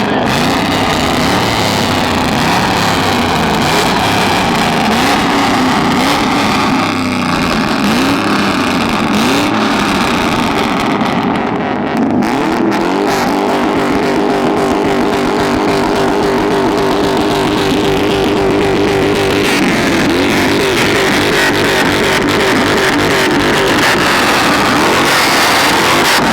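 A lifted truck's engine revs hard at a truck meet in McComb, Mississippi, a loud, continuous roaring drone that swells and surges through repeated throttle blips, up close and alone without voices.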